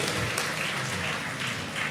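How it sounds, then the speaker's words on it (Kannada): Audience applause for temple volunteers at the Madhur Brahmakalashotsava, a steady, dense crowd clapping that fills the short clip at moderate level without a break. "ಅವರಿಗೊಂದು ನೀವು ಚಪ್ಪಾಳೆ ಕೊಡಲೇಬೇಕು"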